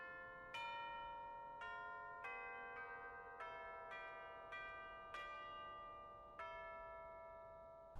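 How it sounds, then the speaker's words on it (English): A signal bell in Final Fantasy XIV's Starlight Celebration Christmas event rings out in a slow melody of about nine clear, sustained metallic strikes, each one ringing on and overlapping the next. "Well, it certainly sounds like a bell now, doesn't it?"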